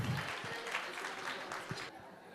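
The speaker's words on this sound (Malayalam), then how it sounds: "കയ്യടിക്കണം, എല്ലാവരും കയ്യടിച്ച് വരേൽക്കൂ." An audience at an Onam celebration claps to welcome Ashtapadi singers, a faint, distant wash of applause that holds steady for about two seconds and then stops abruptly.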